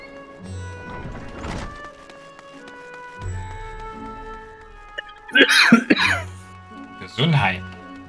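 Sneezing from a character in the game FFXIV: Endwalker, with a couple of sharp bursts near the end following quieter ambient music and noises.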